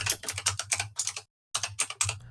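Rapid, crisp typing on a non-membrane computer keyboard, clattering keystrokes in quick bursts with a brief pause midway, close and distinct with no speech.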